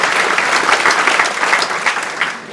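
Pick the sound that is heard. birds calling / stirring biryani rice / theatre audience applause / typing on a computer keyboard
theatre audience applause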